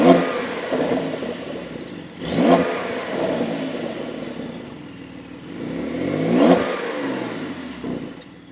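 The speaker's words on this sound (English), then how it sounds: "Now, coming lower, you have the car's exhaust system." A 2020 Porsche 911 Carrera S (992 generation) revs through its exhaust with two distinct rising blips and a lower idle rumble between them, heard close up with no one speaking.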